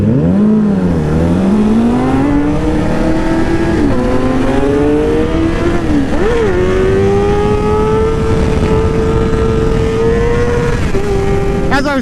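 A car engine revs and climbs steadily in pitch while racing another driver, loud and close, the tone rising and holding over the whole stretch with no talk on top.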